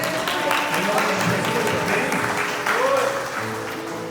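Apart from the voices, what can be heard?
congregation applause in church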